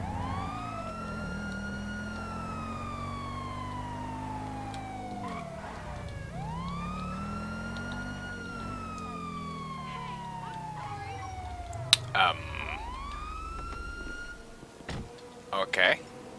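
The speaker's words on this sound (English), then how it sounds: "There's an ambulance." Wailing ambulance siren in GTA V, its rising and falling sweeps loud and steady for most of the stretch, with a few short clatters and game noises near the end.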